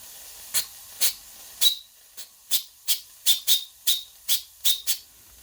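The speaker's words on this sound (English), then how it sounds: "Safety valve starting to lift." The safety valve on a Rocking Whale RW-BL1K model steam engine lifts in repeated sharp bursts of steam hissing, about a dozen short chuffs in an uneven rhythm, loud and close.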